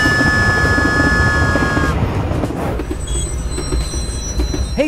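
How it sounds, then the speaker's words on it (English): A loud train rumbles steadily past, wheels squealing in long high tones that fade partway through, with rattling clatter continuing underneath. "The trash train has arrived."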